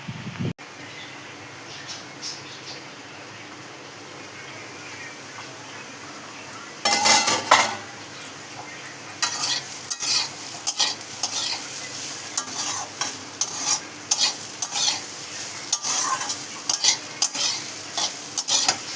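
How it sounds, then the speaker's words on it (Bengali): Potatoes fry in a pan at home, first as a quiet sizzle, then loud and close as a spatula scrapes and stirs them in repeated bursts against the metal over the continuous frying. "এই দেখো আমার আলু ভাজা হয়ে গেছে"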